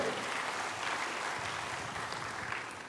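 A church congregation applauds during a sermon, a dense, even wash of clapping that stays steady and fairly loud for a few seconds.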